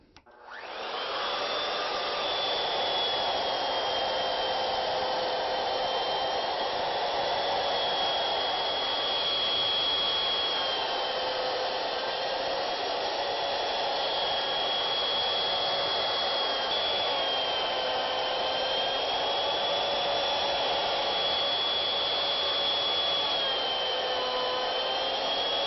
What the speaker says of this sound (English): we'll need to set the router over the center of the carriage and lock it in place